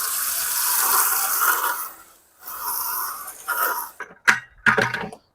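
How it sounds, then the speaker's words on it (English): A garden water hose sprays into stuck plastic buckets in a steady broadband hiss, pausing briefly midway, then breaking into short irregular bursts as the flow is redirected. "You take your water hose, spray in there, and some of that will get down inside the bucket"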